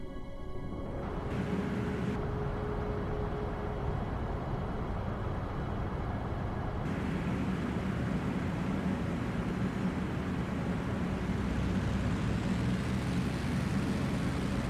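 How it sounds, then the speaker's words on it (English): Propeller aircraft engine droning steadily in IL-2 Battle of Normandy, a loud continuous roar with a grinding low throb that swells slightly toward the end. "This is probably my favorite sounding plane in the game."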